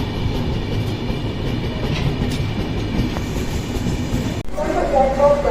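Jammu Tawi Express rumbling along the rails on its run into Raniganj station, a steady close, loud rattle and roar that thins out near the end with faint high squeals.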